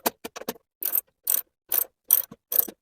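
A ratchet works on a bolt in a vehicle's rear fit-out, giving quick clicking strokes followed by four or five separate, evenly spaced, close-up bursts of ratcheting with short pauses between them.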